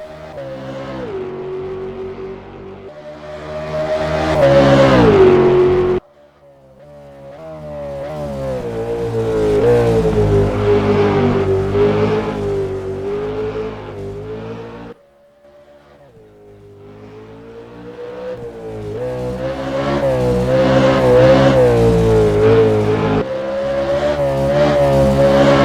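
FVR V8 Supercars race in the rFactor 2 sim, their engines screaming loud at high revs. Sharp gear shifts break up the sustained wail, with no talk over it.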